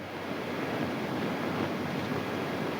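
Water rushing out of an open valve: a constant, broad, hissing roar that stays at an even level throughout, with no voices over it.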